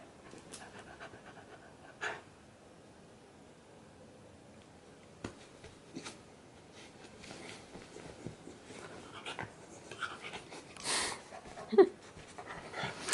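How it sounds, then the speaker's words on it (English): Dog panting softly and steadily at close range, with occasional faint clicks and rustles, fairly quiet overall. "good dog"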